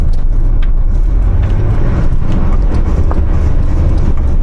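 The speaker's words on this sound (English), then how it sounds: "You can hear the sound on gravel." A Mercedes-Benz W123 rolling slowly over gravel, a steady close crunch of tyres on loose stones under a low, constant engine hum, with no breaks for the whole stretch.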